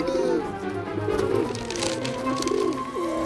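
A pigeon coos in an animated cartoon scene, giving a steady, low, throaty burble that lasts the whole few seconds at moderate volume, with a faint hum of background sound behind it.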